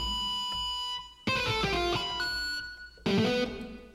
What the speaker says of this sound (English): It's a pinch harmonic is what it actually is.